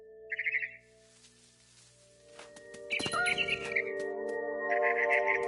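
Bird calls in the game What Remains of Edith Finch: short bright chirping bursts heard three times, set against sustained tonal background music with no speech.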